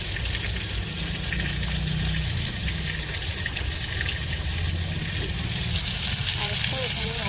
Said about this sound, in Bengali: এরকম করে আমি সবগুলো ভেজে নেব